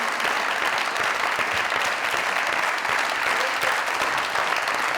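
Standing ovation from a comedy show studio audience, dense sustained clapping at steady loudness for several seconds without any voices on top.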